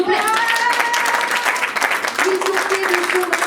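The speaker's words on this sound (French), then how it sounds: "venir nous rejoindre sous un tonnerre d'applaudissements" Loud, dense applause from a festival audience greeting the film directors, steady throughout, with a sustained tone and some voices mixed in underneath.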